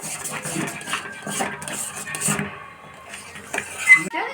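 A spoon scrapes and clinks against a pan as a thick pitha batter is stirred nonstop for chandan kaat pitha, a steady run of close metallic knocks and scrapes with no talk.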